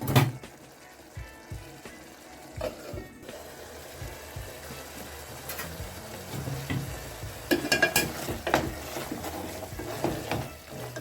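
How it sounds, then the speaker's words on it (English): Tomato paste and beef simmering in a pot, a continuous bubbling sizzle with occasional stirring scrapes and clinks that grow busier toward the end. "I'm going to let this simmer for about 2 to 3 minutes till my tomato paste is well done"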